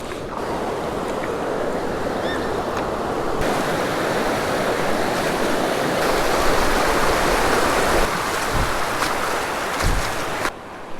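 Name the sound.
river current flowing over shallow shoals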